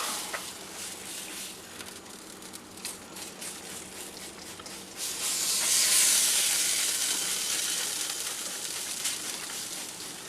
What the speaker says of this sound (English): Here we are, we're going in for spritz number 2.